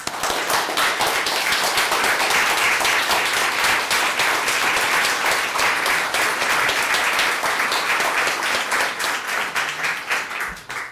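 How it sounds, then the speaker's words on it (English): An audience at a school board meeting applauds loudly and steadily for about eleven seconds, the dense clapping easing slightly toward the end. "we stand and we applaud Catherine Smith for her dedication on the school board since 1996"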